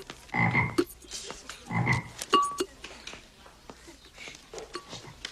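Marsh frogs croak in short rough bursts, several close calls in an irregular rhythm with clicks and chirps between them.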